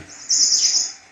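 A single bright, high-pitched oriental magpie robin call sustained for about half a second, clear and fairly close, over quiet background.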